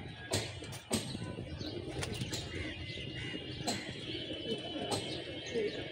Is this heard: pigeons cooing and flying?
yes